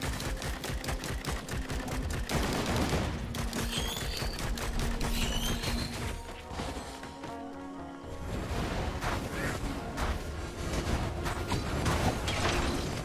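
Enemies in a video game fire a continuous rapid rattle of gunfire that stays loud and steady. It dips briefly midway, then resumes at full intensity.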